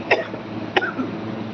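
Two distinct coughs, close and clear, spaced about half a second apart over a quiet background.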